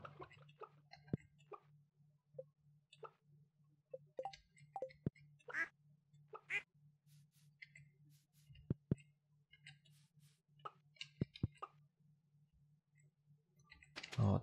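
Soft duck quacks pop up repeatedly in a Stardew Valley farm game, short separate calls over quiet background music with light clicking and tapping in between.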